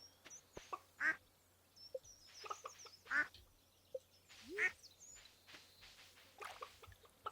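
Ducks quack in the farming game Stardew Valley, soft single quacks spaced a second or two apart among faint ambient game sounds, with no talking.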